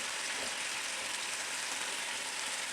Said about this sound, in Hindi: पहले एक तरफ से फ्राई करके फिर मैं दूसरी तरफ से इसको पलटूँगी